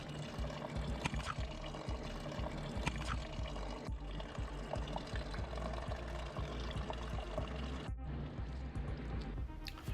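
Coolant pours and trickles steadily from an opened drain on a Nissan Quest radiator, a continuous close splashing stream with a brief dip near the end.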